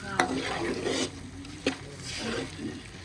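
Onions frying in a pan give a steady close sizzle, broken by a couple of sharp knocks and scrapes from a spoon stirring them.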